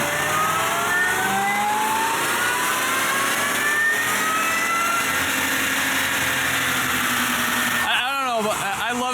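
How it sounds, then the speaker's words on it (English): A supercharged Cadillac Escalade with an 8-speed automatic, fitted with C7 Z06 parts, pulls hard on a dyno as its loud engine climbs steadily and a whine rises in pitch, then the run ends abruptly near the end. "I love supercharger whine."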